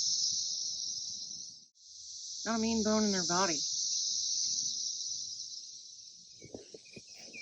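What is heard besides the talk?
cicadas buzzing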